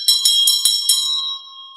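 A ritual hand bell used in Buddhist deity yoga meditation rings out in about five quick, bright, close strikes, and the tone lingers and fades afterward.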